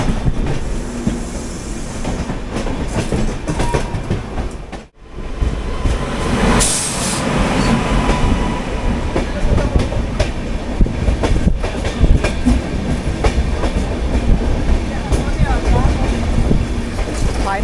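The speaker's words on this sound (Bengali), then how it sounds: "এই যে ট্রেনটা, এটা হাওড়া যোধপুর এক্সপ্রেস। তো এখনই হাওড়ায় ঢুকবে।" The Howrah–Jodhpur Express rolls into Howrah station with a loud, sustained rumble and rhythmic wheel clatter close by, dipping briefly before the heavy roar resumes. Faint metallic squeals run through the noise.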